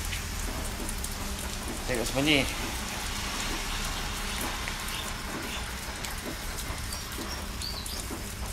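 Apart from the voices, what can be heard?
light drizzle rain falling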